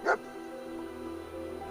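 A single short, close bark or yip from a dog in the video game Fallout 4 sounds at the very start, then a steady low ambient hum continues alone.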